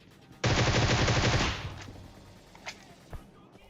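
Automatic gunfire in the mobile battle royale game PUBG Mobile, a loud close burst of rapid shots lasting about a second, followed by a couple of fainter single cracks, with no talking.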